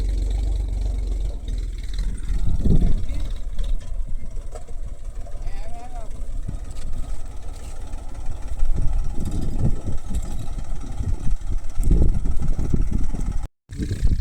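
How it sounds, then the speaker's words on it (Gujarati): A low tractor engine rumbles steadily throughout, mid-pitched and continuous, during field ploughing, with people talking over it and a brief dropout near the end. "કેતનને આપી તું ટ્રેક્ટર"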